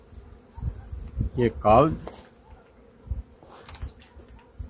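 Honeybees buzz steadily throughout a strong, populous hive colony as the frames toward the centre are opened, a continuous close hum with a brief spoken remark over it.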